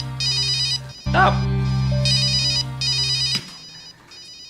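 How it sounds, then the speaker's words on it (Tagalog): A cellphone ringtone plays as a repeating bright electronic melody in bursts, loud and close, with a voice speaking briefly over it partway through. "Diri akong cellphone it natunog."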